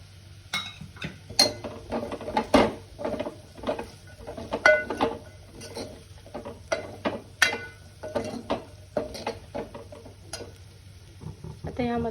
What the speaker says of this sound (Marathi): त्यामध्ये आता मी साबुदाणा टाकते